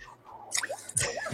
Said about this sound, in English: Got a sip of water in there.